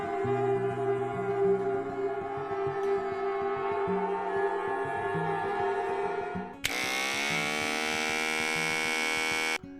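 An Andis GTX EXO 2 brushless clipper motor, rated at 7,200 RPM, switches on partway through, giving a steady, even electric hum with a high whine that follows quieter tonal background sound.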